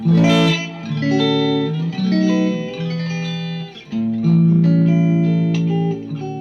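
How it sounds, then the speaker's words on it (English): A Telecaster electric guitar, played without its effects pedal, plays sustained chords and single notes through an amplifier, with a light reverb tail and no talking. "this is what the Telecaster sounds like without the Digitech pedal I have on the floor"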